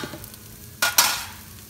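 Onions dropped into a hot frying pan for vegetable patties with turmeric, bursting into a sudden loud sizzle after a quiet stretch, with a second surge of hiss that then settles into a steady frying crackle.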